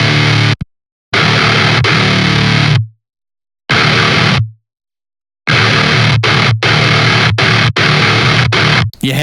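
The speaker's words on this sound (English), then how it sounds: "When these two effects come together, a fuzz and an octaver, something really special happens." Heavy, fuzzy distorted bass through fuzz and octaver effects, with a deep octave-down growl, played in loud bursts separated by abrupt silences, ending in quick choppy hits.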